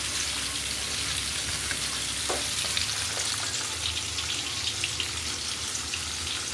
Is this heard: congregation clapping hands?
no